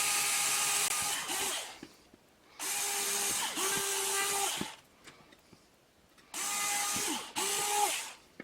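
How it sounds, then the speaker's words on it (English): A power drill bores through a metal mini quad frame in three loud, close whining bursts, each winding up, grinding steadily, then stopping with a short pause between holes. "So let me get these drilled out,"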